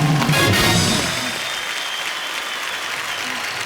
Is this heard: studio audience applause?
yes